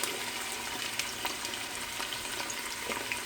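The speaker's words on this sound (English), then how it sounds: "now that the oil is hot, really, really hot, you want to put in the white onions, and that's the sound it should make" White onions hitting very hot oil produce a steady, bright frying sizzle with scattered crackles and pops, close and continuous throughout, with no talking.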